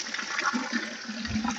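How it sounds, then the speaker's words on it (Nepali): Water gushes steadily from a natural outdoor shower spout, a close, continuous rushing and splashing pour that lasts the whole moment without talk. "पानी आयो मजाले"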